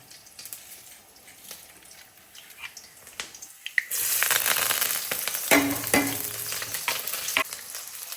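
Spices, curry leaves, green chilies and small onions hit hot oil in a pan, a loud steady sizzle bursting in after a quieter start and continuing with crackles and stirring scrapes, no talking.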